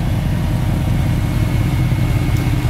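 A 1966 Ford Mustang engine idles steadily, a loud continuous low rumble with an even pulse and no speech over it.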